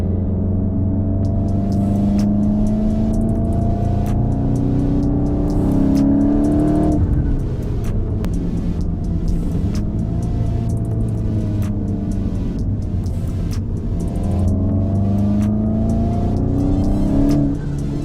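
A manual VW Golf Mk8 GTI heard from inside while driving: a loud, steady engine drone that climbs in pitch as it revs through the gears, drops sharply at a shift, then climbs again, with faint ticks over it.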